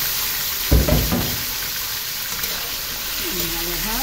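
Chicken pieces dropped into a hot pan for adobo, a sudden loud sizzle bursting up and then settling into a steady frying hiss, with faint voice-like tones near the end.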